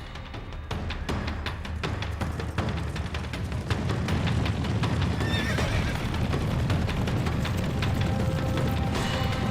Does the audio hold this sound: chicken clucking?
no